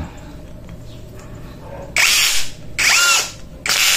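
Ingco 20V cordless impact drill driving a screw, with three loud close bursts of whirring and hammering separated by short pauses over a quiet background.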